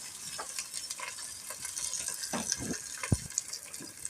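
Freshly picked peas still in their pods fry in oil on top of a wood-burning stove, crackling and sizzling up close with scattered pops, scrapes and one sharp knock as they are turned.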